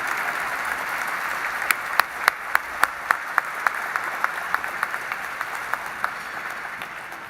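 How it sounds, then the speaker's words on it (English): An audience at a museum exhibition opening applauds an ambassador with a soft, even wash of clapping and a few crisp, distinct claps rising above it. "let's give him a big round of applause"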